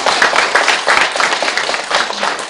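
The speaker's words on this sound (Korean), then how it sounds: "박수는 좀 쳐봐 이런 거는" A gathering at a Buddhist monk's dharma talk breaks into brisk, loud clapping, a dense crackling patter of many hands sustained across the short moment.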